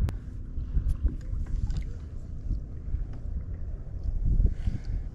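Low rumbling wind buffets the microphone in uneven gusts on a via ferrata climb, with a few faint knocks and clicks scattered over the roar.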